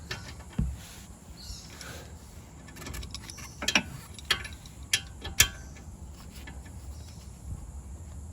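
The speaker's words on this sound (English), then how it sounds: "tighten up fully with the wrench" A wrench tightening a brake caliper bolt during front pad and disc replacement on a Mk7 VW Golf. Close ratcheting clicks and metallic ticks come at an uneven pace over a low background hum.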